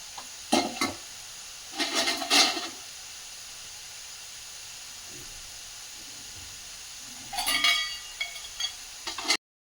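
Kara sev fries in hot oil while being turned over, a steady soft sizzling hiss broken by a few sharp bursts of stirring and bubbling clatter, with no voices.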